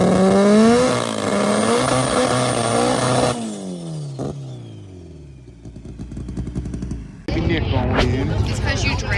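Race car engine revving at the track during a rough test day, a loud close engine note climbing and falling in pitch, then dropping to a lower idle before another rise.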